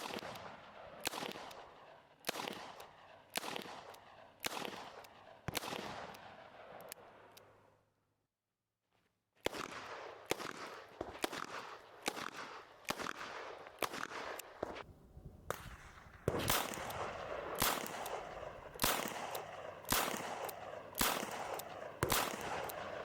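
Repeated sharp shots from a Smith & Wesson 686 .357 Magnum revolver at an outdoor range. Loud, close cracks come in bursts, with a short silent pause midway, and no talking.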